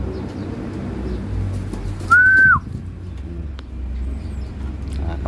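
Young racing pigeons in a loft give a single clear whistled note amid low background rumble, with faint rustling and a vehicle passing somewhere distant.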